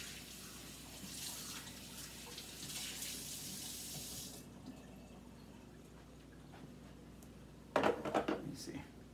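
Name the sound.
hot water running to warm up coffee cups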